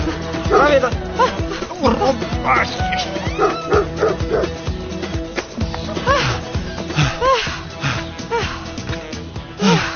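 Dog barking and yipping repeatedly within a dramatic scene, mixed with loud music and other sound effects.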